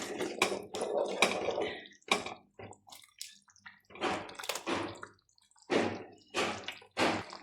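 A pot of fenugreek kuzhambu curry boils in bursts of thick, bubbling plops and squelches, close by, with short gaps of near silence between the irregular bubble pops.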